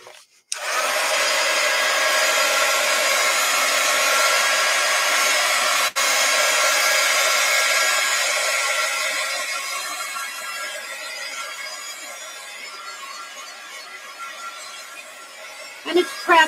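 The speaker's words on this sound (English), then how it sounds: "Grab my heat gun." A heat gun blows on a damp painted sketch, giving a loud, steady, whooshing hiss that starts abruptly and runs for about fifteen seconds. It fades slightly before clicking off near the end.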